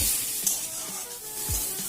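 Spices being stirred and fried in a pan while cooking ridge gourd with egg and fish, a steady close sizzle with a few scraping stirs of the spoon against the pan.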